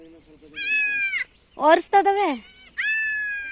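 Goats bleat in three drawn-out, wavering calls at a home farm. Each call is loud and close, with short gaps between them.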